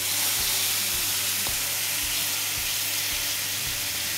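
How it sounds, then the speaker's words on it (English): Steak sears in a hot pan greased with leftover lamb fat, a loud, steady sizzling hiss close up, with faint regular ticking underneath. "So nice hot pan. We want to make sure that is sizzling up a treat."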